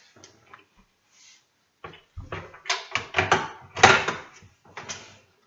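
A Home Depot drawer, loaded with its contents, being lifted and set onto its rails: a cluster of hollow knocks and sliding clatters building to a louder thump, close, with no talk.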